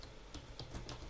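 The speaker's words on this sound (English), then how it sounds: "I'm going to type in this command" Computer keyboard typing, a brief, faint run of close, irregular key clicks without any voices.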